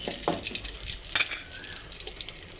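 Ingredients for mint rice sautéing in a pan, with soft sizzling, watery splashes and a few clinks of stirring close by, fairly quiet and without speech.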